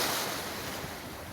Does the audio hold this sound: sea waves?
yes